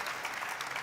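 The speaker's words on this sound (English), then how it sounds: "applause." Brief burst of audience applause at a plenary lunch meeting, a steady wash of clapping heard from the room without speech.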